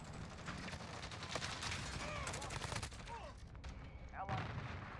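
Rapid bursts of Grau assault rifle fire from Call of Duty: Modern Warfare, a fairly steady, loud stream of shots running through the whole stretch with brief pauses near the end.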